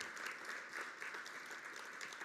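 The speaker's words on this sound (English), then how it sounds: "Oh, come on, little applause." Short, steady applause from an audience at a transit agency presentation, moderate in level and continuous throughout, with no voices over it.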